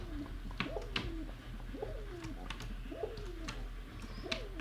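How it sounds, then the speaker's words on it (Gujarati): Pigeons coo in a repeated rolling rhythm, about four calls, soft and close, over a low steady background hum and faint clicks. "મિત્રો જોઈ રહ્યા આપણા કબૂતર"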